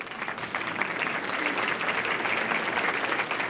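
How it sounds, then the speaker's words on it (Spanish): A congregation applauds a speaker during a Sunday church service, steady and dense clapping that holds at an even level for several seconds, close and fairly loud. "Hola, Mónica, un aplauso."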